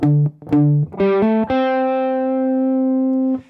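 Distorted electric guitar palm-muted at the bridge plucks a few short, choppy notes, then lets one low note ring out steadily before it cuts off.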